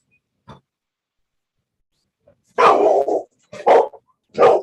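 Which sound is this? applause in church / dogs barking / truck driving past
dogs barking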